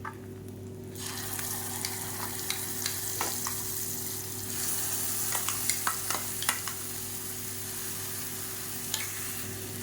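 Ground garlic paste and whole garlic cloves fry in oil in a pan for garlic thokku. A steady crackling sizzle runs under a constant low hum, with scattered spoon clicks and no talking.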